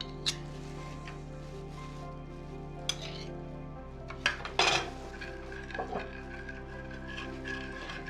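Carrot, celery and apple salad dressed with oil and honey being stirred in a bowl, giving a few scattered clinks and scrapes of a utensil against the dish amid quiet handling noises, with no voices.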